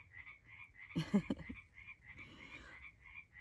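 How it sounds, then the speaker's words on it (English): Frogs croak at night near a campsite along the Pacific Crest Trail, a steady pulsing chorus in the background with a brief louder burst of nearby rustling or handling noise. "You can hear the froggies in the back."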